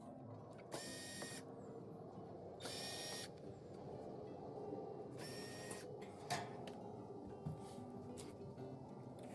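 Power driver backing out panel screws on a Miele dishwasher: three short, bright whirring bursts separated by pauses, close by, with light clicks and handling noise in between.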